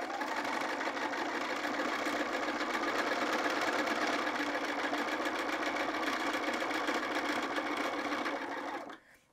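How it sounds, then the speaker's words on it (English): A sewing machine fitted with a walking foot quilts across the layers of a jacket, its steady, close motor whir running continuously and cutting off just before the end. "I'm going to slide my fabric underneath and I'm just going to start quilting across."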